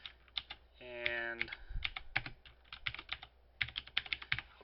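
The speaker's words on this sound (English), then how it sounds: "I'll type my name in local and hit enter" Computer keyboard typing, entering a name in the Second Life virtual world: a quick run of crisp, close keystrokes in irregular bursts, with a short synthetic tone partway through and a brief word spoken once.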